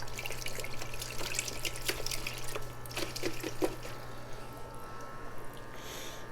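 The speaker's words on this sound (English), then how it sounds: "put it into our little bucket of water and loosen the soil into the water with our fingers" A Mandevilla plant's roots and soil are worked by hand in a small bucket of water, producing gentle sloshing, dripping and trickling sounds close up over a steady low hum.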